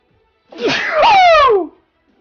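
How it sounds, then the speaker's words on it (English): A single loud sneeze, a short rising inhale and then a sharp burst, close up and alone in the quiet. "Excuse me, there's a sneeze coming."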